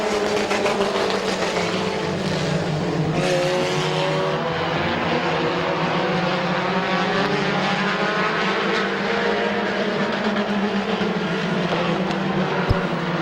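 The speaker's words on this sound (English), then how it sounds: "Off turn number 4, first heat race win on asphalt, Jeremy Ross." Compact race cars at an asphalt speedway heat race, several engines roaring continuously and loud as they run the track together, with rising and falling engine tones as cars pass.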